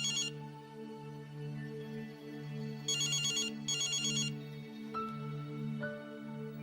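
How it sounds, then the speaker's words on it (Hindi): A telephone rings steadily with a repeating electronic chime, fairly clear and without any voices. "रज्जो, और रज्जो, फोन में नहीं उठाती, पता नहीं कहाँ चली गई है।"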